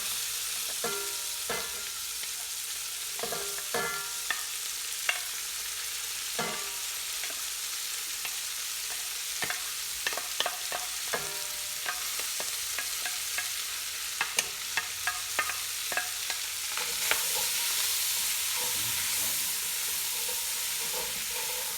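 Corn is frying in a hot pan while shrimp scampi is being cooked, giving a steady sizzle and hiss broken by repeated scraping and stirring clicks from a utensil, fairly quiet and close with no talking.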